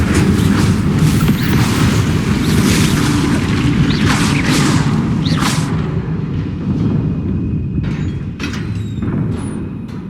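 Incendio fire spell cast in the wizarding game Hogwarts Legacy: a loud, sustained roaring whoosh of flame with crackling bursts that thins out toward the end.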